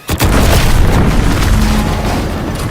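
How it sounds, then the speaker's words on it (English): A loud, deep explosion in the video game The Outer Worlds 2 hits with a sudden sharp onset, then a heavy rumbling roar sustains for the rest of the moment, with no voices over it. "What's that? An explosion?"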